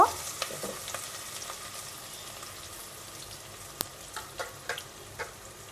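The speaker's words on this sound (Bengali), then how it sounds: "পেঁয়াজটা আমি হালকা একটু ভেজে নিব" Half a cup of chopped onion frying in three tablespoons of soybean oil in a pot for a Bengali magur fish curry, a steady soft sizzle with a few brief clicks and one sharp tick, heard alone without talk.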